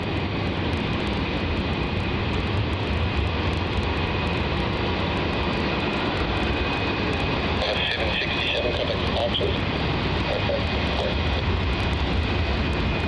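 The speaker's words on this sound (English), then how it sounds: "Got a departure here on runway 34. This is going to be the Qantas 737-800 going off to Brizzy as QF608." A Qantas Boeing 737-800 departs on runway 34 at Melbourne Airport, its engines giving a steady, loud broadband roar that holds unbroken throughout, with a faint high whine riding above the rumble.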